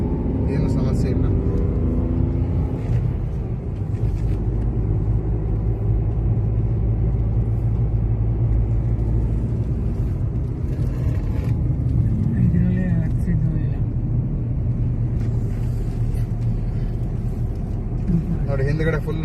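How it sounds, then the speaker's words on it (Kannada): A fully loaded passenger vehicle packed with people climbs uphill in third and second gear, its engine a continuous heavy rumble with wind noise throughout, and voices talk over it. "ಈಗ 3rd ಗೇರ್ನಲ್ಲಿ ಮತ್ತು 2nd ಗೇರ್ನಲ್ಲಿ ಆರಾಮಾಗಿ ಹೋಗ್ತಾ ಇದೆ ಗಾಡಿ, ಏನು ಸಮಸ್ಯೆ ಇಲ್ಲ."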